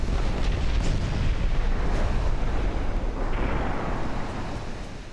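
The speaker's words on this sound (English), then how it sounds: "But an enormous amount of gunfire brings her down." Dense, rumbling booms of heavy naval gunfire in a video game roll together in a loud continuous barrage, with sharp bursts layered over a deep low roar.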